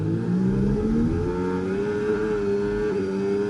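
Formula racing car with a Ferrari engine in a racing video game at the Austrian Grand Prix, loud engine revving as the pitch climbs and then holds high during wheel spin in fourth gear, continuous and close.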